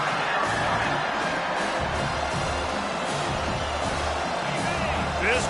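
A stadium crowd roars and cheers at a South Carolina college football game, a dense, sustained wash of distant voices with occasional whoops while a commentator talks over it.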